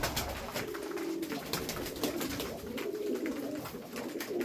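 Tumbler pigeons kept as performance birds give soft, steady cooing amid a busy, rustling background with frequent light clicks and taps.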